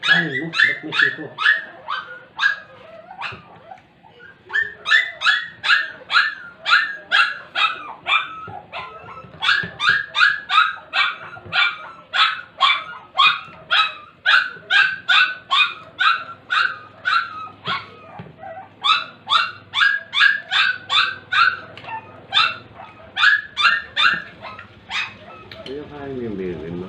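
Puppies yip and whimper close by in long, rhythmic bursts of high barks separated by short pauses, ending with a soft vocal sound.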